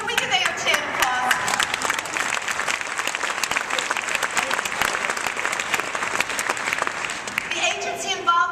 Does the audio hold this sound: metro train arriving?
no